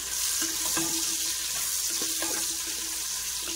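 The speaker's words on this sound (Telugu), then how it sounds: "ఇంకొద్దిగా ఫ్రై అయితే చాలండి ఉల్లిపాయ." Sliced onions and green chillies fry in hot oil for veg biryani, a loud steady sizzle filling the whole stretch, with scattered stirring scrapes and clinks close by.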